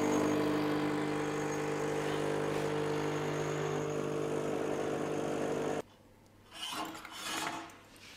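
A Rancilio Silvia V5 espresso machine's vibratory pump buzzes loudly and steadily during an extraction, then cuts off abruptly. Quieter rubbing and handling sounds follow.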